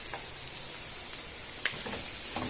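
Chicken frying in a pan with onion and garlic gives a steady, close sizzle, with a few sharper crackles and spatters breaking through. No one speaks.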